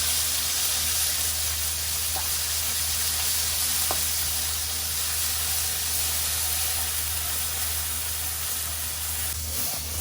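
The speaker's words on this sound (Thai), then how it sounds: "คั่วน้ำพริกหอม" Chili paste being dry-roasted in a pan for a northern Thai dish: a steady, close sizzling hiss that runs throughout, with a few faint clicks of stirring.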